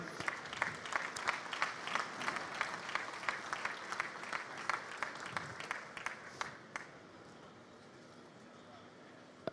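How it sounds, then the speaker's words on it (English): Audience applause at the 2018 WRC season launch at the Autosport International Show, brisk clapping with sharp individual claps that thins out and fades after about seven seconds, leaving quiet room noise. "Round of applause, please, ladies and gentlemen."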